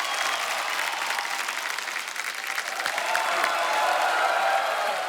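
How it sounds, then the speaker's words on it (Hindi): A studio audience on a comedy talk show breaks into loud, sustained applause, dense clapping that holds steady and swells slightly toward the end. "एक बार जोरदार तालियां हो जाए।"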